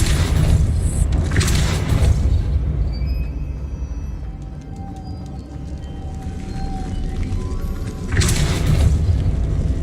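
A Depulso spell cast in Hogwarts Legacy on PC: three loud booming bursts, at the start, just after, and near the end, over a steady rumbling game background.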